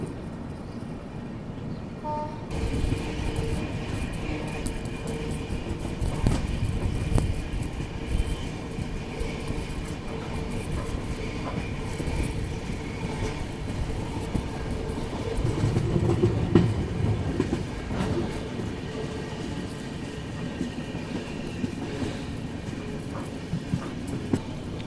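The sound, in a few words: Subedarganj Dehradun express train running, nearing Chandausi station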